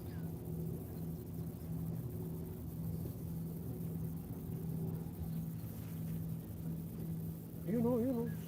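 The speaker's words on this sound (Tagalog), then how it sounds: "Jet ski ba yun?" A jet ski engine drones steadily at a distance on the water at Tommy Thompson Park, a low continuous hum under faint background noise, with a brief higher call near the end.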